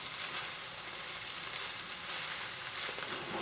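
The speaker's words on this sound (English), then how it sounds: "You can hear it start sizzling, especially on the bottom" Turkey cooking in a hot pan, a soft continuous sizzle and crackle of frying heard alone at low to moderate level.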